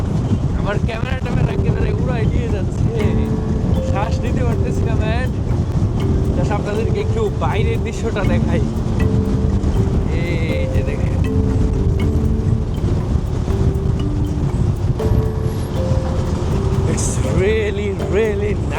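Strong wind roars in a constant low rumble during a road trip in Uganda, loud and unbroken for the whole stretch while someone talks over it.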